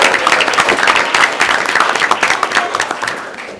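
Audience members at a school board meeting clap together in a brisk burst of applause that tapers off over a few seconds, with a voice faintly audible underneath.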